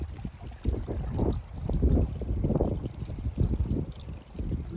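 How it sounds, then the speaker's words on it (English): Running water in a small stream beside a road trickles and gurgles in uneven surges, fairly close and quiet, with no talking. "I can hear running water running down a little stream down here next to the road."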